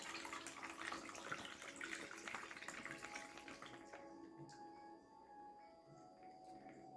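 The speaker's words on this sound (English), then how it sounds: "Now that we've shaken our matcha, it's time to pour." Frothy shaken matcha is poured out for an iced latte, a soft splashing stream for a few seconds that thins to a light trickle; quiet and close.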